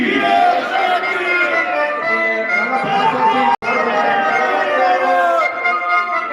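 Crowd at a Saraiki cultural program at Multan Arts Council raising loud, continuous slogans and cheers, dense massed voices throughout with one abrupt cutout midway.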